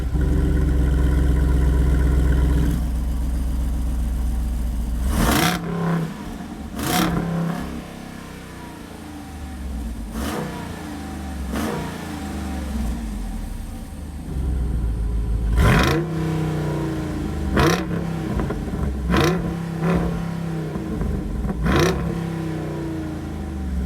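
A 2022 Jeep Wrangler Rubicon 392's deep V8 exhaust idling low while stationary, then a series of sharp, loud revs that roar up and drop back, several bursts spaced apart.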